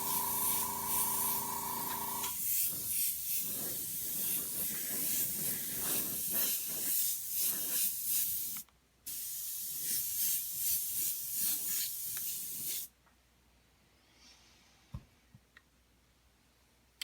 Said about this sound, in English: I do several layers of airbrush to build my base colors